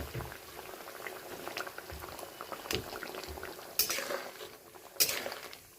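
Egg curry in a pot after water is added: a close bubbling simmer with occasional clinks of utensil against the pan and two sharp louder scrapes.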